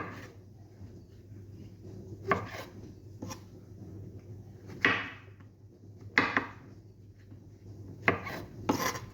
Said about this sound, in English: you can chop it up like so as well